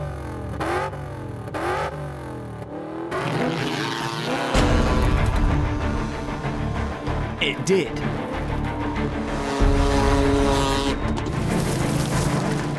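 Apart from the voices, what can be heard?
jet-powered kayak starting off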